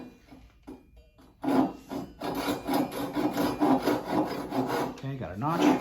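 A coarse ripping hand saw cuts through wood in steady, rasping back-and-forth strokes, close and fairly loud after a few light starting scrapes, ending with a brief squeak.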